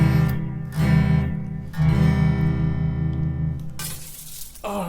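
An out-of-tune guitar being played, sustained sour chords ringing out close and loud, with each strum decaying into the next and a final scraping strum at the end; no voices.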